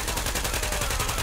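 Rapid automatic gunfire in The Division, a dense burst of close, loud shots in quick succession filling the brief moment.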